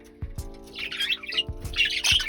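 Pet birds squawking and chirping back and forth in a quiet room, harsh bursts of calls coming in short clusters with a few soft knocks between them, fairly close.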